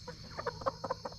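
Several chickens, newly brought home, cluck softly in a short run of separate close calls, with a faint steady background hum.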